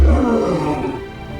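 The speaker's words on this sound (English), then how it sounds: "A lion's roar can be heard from 8 kilometers away, a sound so powerful it literally vibrates through the ground and into the bones of every creature within range." A lion on the savannah lets out a deep, loud roar that rumbles and trails off over about a second, heard alone.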